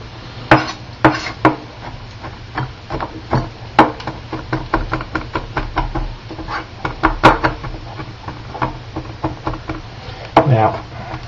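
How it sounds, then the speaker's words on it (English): A knife chops ingredients for jambalaya on a kitchen board in a quick, uneven run of sharp taps and knocks, with a person talking over the work. "I'm going to do some chopping."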